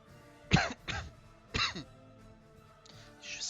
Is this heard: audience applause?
no